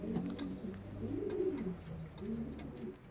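Pigeons cooing in a loft, low throaty coos overlapping in a steady, fairly close murmur with soft rustling in the background.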